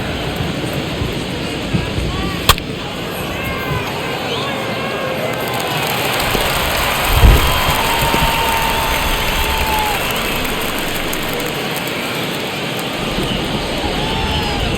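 Steady rain hissing over a baseball stadium in MLB The Show 22, a dense, even wash that lasts throughout, with a voice speaking faintly beneath it and a brief thump midway.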